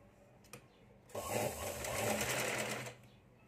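A sewing machine stitches tucks into a garment in one steady mechanical run of about two seconds, preceded by a couple of soft handling taps in a quiet room.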